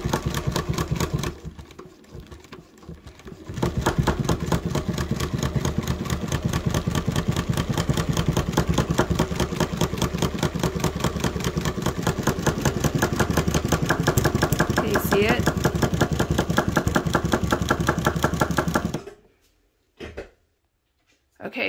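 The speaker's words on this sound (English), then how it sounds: "Hear that noise? That means my needle is getting stuck in my nipple and pulling the nipple up with the needle." A chainstitch embroidery machine runs steadily for about twenty seconds, its rapid mechanical stitching rhythm loud and close, with the needle catching and sticking in a clogged nipple, then the motor stops and a pause follows.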